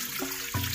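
Water being poured into a bowl for bread dough, a soft trickle that swells into a fuller, louder splash partway through, close and with no talk.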